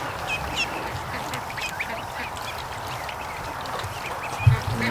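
Muscovy ducks squabbling aggressively, with a dense stream of quacks, honks and hisses over a continuous farmyard background, loud and close throughout.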